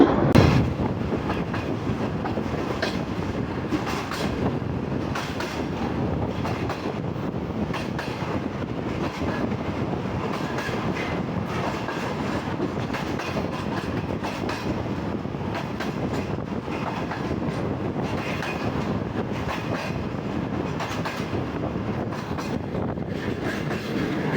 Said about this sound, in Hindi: जाफर एक्सप्रेस को चलाया है अभी और अपने पास हो रही है ट्रेन